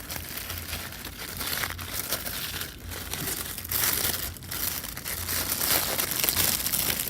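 Decorative gift paper on a mailed craft package is crinkled and torn open by hand, with continuous rustling and crumpling, close and moderately loud, with short pauses between handfuls.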